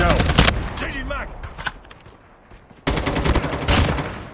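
Automatic gunfire in the mobile shooter Call of Duty Mobile, loud sharp bursts at the start and again near the end, with a brief voice between volleys.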